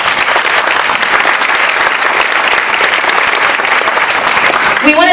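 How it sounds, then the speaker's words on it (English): Sustained applause from a large conference audience at a welcome session, dense steady clapping filling the room for several seconds without a break. "Give yourselves a round of applause."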